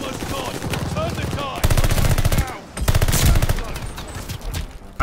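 Loud, rapid machine-gun bursts from the Atomic Automaton in a shooter video game, firing in long sustained volleys with brief pauses between them.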